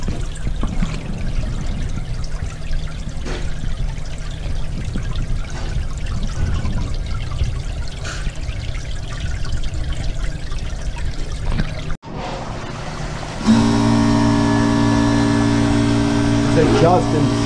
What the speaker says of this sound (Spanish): Vamos a proceder a prender la máquina una vez más para que usted vea que ya quedó